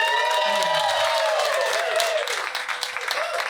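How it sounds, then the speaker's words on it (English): Audience applause for a bartender at an evening song performance: broad, steady clapping from a crowd, loud at first and thinning slightly toward the end, with a brief low voice underneath early on. "Everyone, let's round of applause for Marlo right here."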